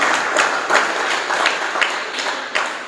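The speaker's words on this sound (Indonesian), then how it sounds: "Tepuk tangan semuanya." An audience at a school quiz competition for Indonesia's 77th Independence Day gives dense, continuous applause that holds steady throughout, loud and close.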